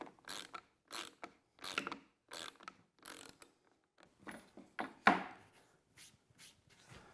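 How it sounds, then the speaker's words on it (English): A socket turned by hand drives a threaded insert into a router table, giving a series of regular ratcheting clicks in short bursts with pauses between them, close and fairly quiet, with one sharper creak near the end. "I'm just going to use a socket to drive it down"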